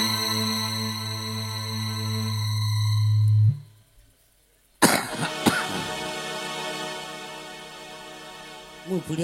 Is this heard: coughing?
yes